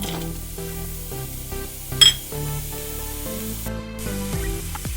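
Onion pieces frying in hot oil with fenugreek and sesame for a fish curry: a steady, soft sizzling hiss that runs throughout under a louder tonal background, with a brief sharper burst near the middle.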